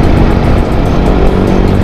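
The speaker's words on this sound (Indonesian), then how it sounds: "Ini keren juga ya motor" Motorcycle engine running steadily nearby, a loud continuous low rumble with a broad droning roar that holds without pause.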